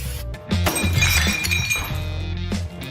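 Loud crashing and smashing with clattering debris, glassy tinkles and thuds in a dense, continuous burst of demolition noise.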